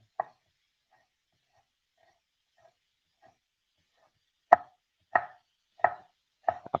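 A knife chops through strips of bacon on a cutting board, first a sharp cut, then a few faint light taps, then four crisp, evenly spaced chops close up in a quiet kitchen.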